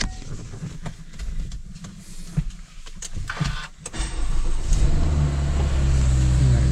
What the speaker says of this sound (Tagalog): So, painitin lang natin sa sasakyan saglit mga Zach